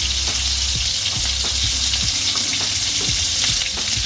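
Moroccan kefta meatballs fry in a generous layer of hot oil, a loud dense sizzle with crackling spits and occasional utensil taps, close and steady throughout.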